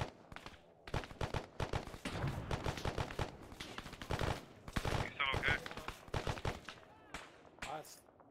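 Rapid bursts of gunfire from a 1990s U.S. Army tactical shooter game, with sharp repeated shots, some in quick automatic strings, firing steadily throughout while players talk over the shooting.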